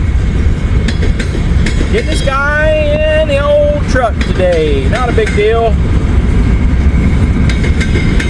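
A train rolls past a truck waiting at a railroad crossing, a steady rumble heard from inside the cab while someone talks over it.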